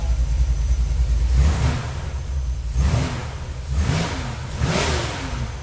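A car engine with a rebuilt Holley 4150 carburetor revs up repeatedly, about four rising throttle blips a second or so apart over a low rumbling idle, heard close by.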